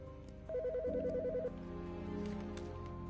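A phone rings in the video game Autopsy Simulator, a clear warbling electronic ring with rapid trilled pulses that starts loud, then gives way to a lower steady tone over a dim background hum.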